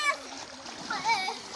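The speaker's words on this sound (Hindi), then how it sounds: "ये पानी आ रहा है।" Water flows and splashes along a village channel in rural southern Punjab, a short splattering burst mixed with children's voices and an adult talking nearby.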